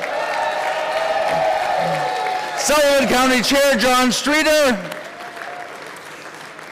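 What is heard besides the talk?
convention audience applause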